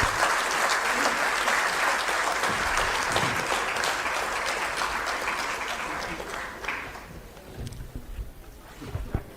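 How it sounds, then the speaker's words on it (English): A crowd at a book launch honouring Mallikarjun Kharge bursts into sustained, dense applause during a shawl presentation, loud and steady before thinning out and fading toward the end. "Can we have a round of applause,"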